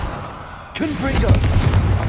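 The Confringo fire spell from Hogwarts Legacy goes off as a sudden booming blast partway through, then a sustained rumbling roar. A voice calls out the spell just before it.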